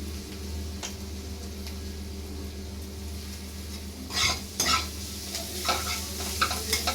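Ginger, garlic and onions fry in a pan. A continuous near sizzle sits over a low hum, then a burst of brisk scraping and clinking stirs near the end, with no talking.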